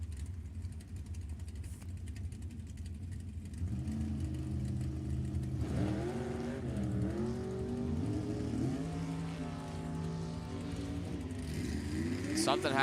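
Dragster race cars, including a short American Chassis dragster and a Chevy II, at an NHRA Summit Racing Series Division 7 bracket final, engines droning steadily from a distance and then rising in pitch as they rev and pull away, under a track announcer's voice.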